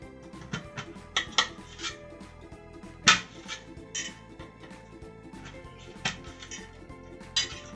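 A knife taps on a cutting board as pointed gourd (parwal) is chopped, producing scattered sharp knocks at irregular intervals over a faint kitchen hum.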